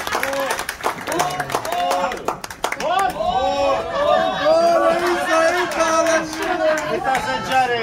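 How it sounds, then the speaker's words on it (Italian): A live audience at a show in Costa Adeje, Tenerife claps along amid loud crowd chatter and cheering, with lively voices calling out over rhythmic hand claps throughout. "Un bel applauso!"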